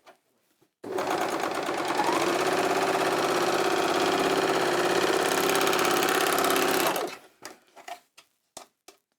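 An Elna 864 overlocker sewing machine threaded with three threads runs at a fast, steady, buzzing rhythm for about six seconds, then stops, followed by a few faint clicks and taps.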